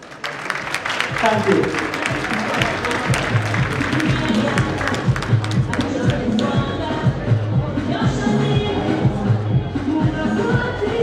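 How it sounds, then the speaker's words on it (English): Audience applause fills a hall at an International Women's Day evening event, steady clapping with crowd shuffling and murmur throughout, and a voice briefly speaking near the end. "let's give it a round of applause"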